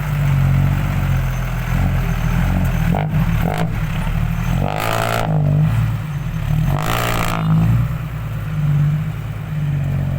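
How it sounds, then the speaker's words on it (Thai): A loud, close motorcycle engine roars continuously, with a few sharper revs and bursts of exhaust noise rising above the steady rumble. "เสียงคำรามนี้มันมาจากอาร์มท่อไอเสีย"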